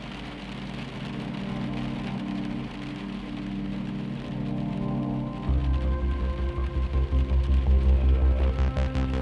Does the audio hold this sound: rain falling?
yes